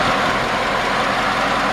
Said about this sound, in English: If you want to listen to that engine real quick